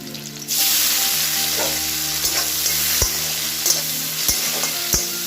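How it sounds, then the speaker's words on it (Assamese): Chilies and onion sizzle loudly in leftover oil from frying fish, a steady hissing fry broken by a few sharp clinks of a utensil against the pan, with no voices. "এই মাছ ভজা তেলখিনিতে মই দুটা তিনিটা জলকীয়া দিলোঁ আৰু এতিয়া পিঁয়াজ দিম"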